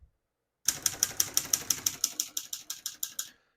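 Keys strike rapidly on a 1954 Hermes Rocket portable typewriter, about fourteen crisp clacks in an even run, close and clear after a moment of silence.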